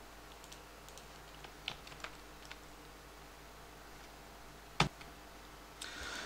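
C code being typed on a computer keyboard for a Linux server database task: sparse, light keystrokes tick away at close range, with a sharper clack near the end and no voices.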